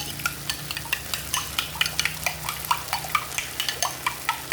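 Okra and corned beef stir-fry in a hot pan, a spatula scraping and tossing in quick rhythmic strokes over a constant sizzle.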